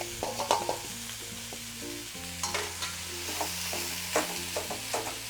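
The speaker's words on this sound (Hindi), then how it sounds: "इसे हम पहले भून लेते हैं, कढ़ाई में इसको डालकर और भून लेते हैं।" Mawa (khoa) roasts slowly over a low flame in a kadhai, with soft sizzling and the intermittent scrape of a spatula stirring it, quiet and close under a faint background hum.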